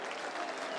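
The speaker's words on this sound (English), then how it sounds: "they were once more waving farewell to the first as they applauded their fans at Oxford" Football fans applauding Leicester City players at Oxford, a dense, continuous wash of clapping from a crowd in a stadium, fairly distant and uniform throughout the short burst.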